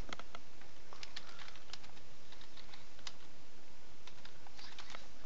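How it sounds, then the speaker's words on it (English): Quick, irregular clicks of someone typing an IP address on a computer keyboard, close and fairly quiet, with no talking. "you're going to want to type that in right here"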